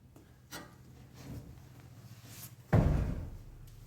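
A 1972 Camaro door on aftermarket hinges with no striker swings shut with one solid, muffled thud after a few quiet creaks and taps.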